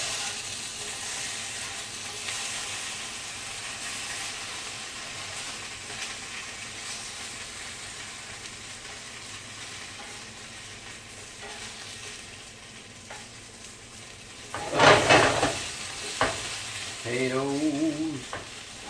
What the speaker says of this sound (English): I'm going to flip these taters.